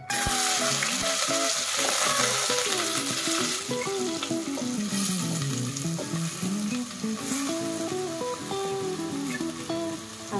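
Cumin, mustard seeds and onion sizzle in hot oil in a pan for chicken kheema, a steady close frying hiss with stirring, while music plays loudly over it.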